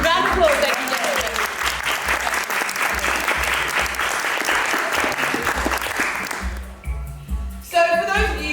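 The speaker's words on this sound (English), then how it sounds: "Round of applause, ladies and gentlemen." Audience applause for a volunteer contestant fills the room in dense, steady clapping with a low thumping beat underneath, tapering off before a voice speaks at the end.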